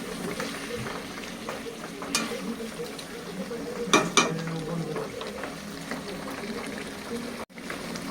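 Meat sizzling in a pan with a splash of water, stirred while it cooks down into a dry, thick curry; steady close frying hiss with a few scraping knocks from the spoon, no speech.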